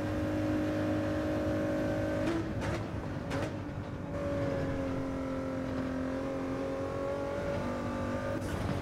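Ford GT race car at Daytona in Gran Turismo 7, engine note sustained and fairly steady with brief gear-shift breaks and revving, moderate level throughout.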